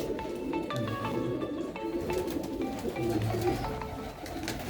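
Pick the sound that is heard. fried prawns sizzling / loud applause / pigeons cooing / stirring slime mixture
pigeons cooing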